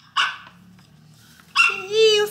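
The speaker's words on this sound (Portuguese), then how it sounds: "Ih, os cachorrinhos estavam todos perto da casa." Small dogs bark in loud close yaps near a house, a short burst, then a longer whining bark with clear harmonics.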